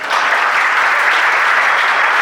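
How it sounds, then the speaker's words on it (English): Audience applause at a games industry workplace awards ceremony in the UK, a dense, even burst of many hands clapping throughout, loud and close, with no voices over it. "I would love it if you would give them a round of applause"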